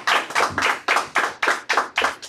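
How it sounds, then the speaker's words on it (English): A church congregation claps hands in unison during a worship service, giving eight loud, steady, rhythmic claps close by, with no talking over them. "Somebody give the Most High a hand clap."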